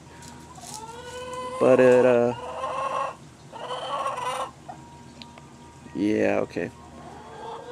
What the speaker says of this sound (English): The chickens are talking.